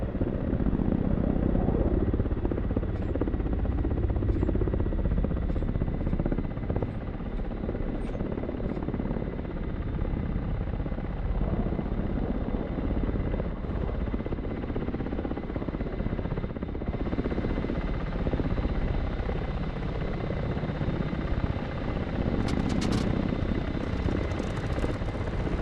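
Ka-50 helicopter in DCS flight simulator, heard as a continuous heavy rotor thrum and engine whine close by, loud and steady the whole time, with a few faint clicks near the end.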